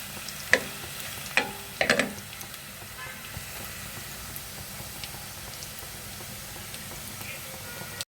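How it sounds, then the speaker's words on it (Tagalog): Garlic and chicken sautéing in a pan for Filipino-style sopas, a low steady sizzle with a few sharp clinks of a utensil stirring against the pan early on, quiet and close. "And I saute the garlic and the chicken."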